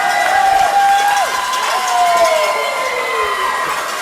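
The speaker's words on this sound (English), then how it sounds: "you can obviously hear the cheering section here." A crowd cheers at a hockey game in a sustained roar, loud and continuous, with whistle-like tones sliding through it and a commentator talking over the noise.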